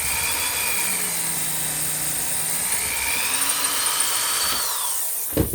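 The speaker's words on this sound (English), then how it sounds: "Bigger the hole, more dangerous the drilling." A drill bores a hole in a harmonica slider during custom harp work, giving a steady high whine and buzz that runs continuously before a brief clatter at the end.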